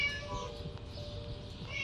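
A cat meows faintly inside the Scary Teacher video game, a soft drawn-out call set over quiet background ambience, with no one talking.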